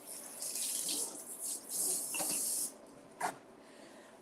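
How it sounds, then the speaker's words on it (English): Vegetable strips rinsed under a running kitchen tap, bursts of hissing, splashing water that start and stop several times, fairly close, with no talk. "So let's give these a rinse and then we're going to mince them up."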